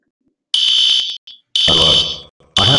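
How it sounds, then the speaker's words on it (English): A loud school fire alarm from a cartoon blares in harsh electronic bursts, with short gaps between the tones and a brief lower rumble under one burst. "That's the fire alarm."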